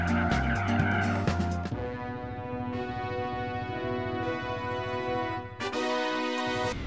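A car in Gran Turismo 4 brakes hard and turns with its tires squealing in a long, sustained skid over a droning engine, close and loud, with the engine surging again at the end.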